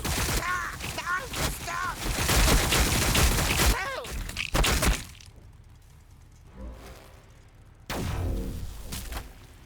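Dense gunfire during an Orks versus Tyranids battle in Warhammer 40,000, with rapid volleys, whooshes and impacts packed into a loud, busy mix under voices. It drops briefly to a quieter lull, then the shooting bursts back in.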